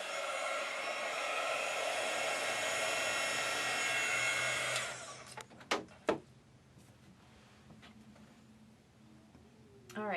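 A heat tool blows a steady loud whooshing roar for about five seconds while heat setting a paper card, then cuts off, followed by a few soft knocks and handling sounds.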